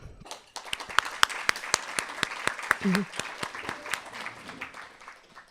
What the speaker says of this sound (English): So I want to give a applaud to all of you.